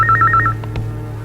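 A telephone rings indoors with a repeated electronic warble in a short burst, loud and close over a steady low hum, with no talk.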